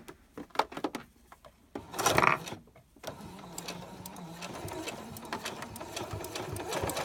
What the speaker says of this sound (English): What you're hearing is my spools of thread that are in the back side of the machine jumping and